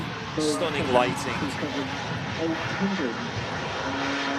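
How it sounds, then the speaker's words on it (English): An Airbus A380 airliner at Manchester Airport on a windy day gives off a steady, broad engine roar that fills the whole stretch, with someone talking over it near the start. "And the biggest passenger aircraft on the planet."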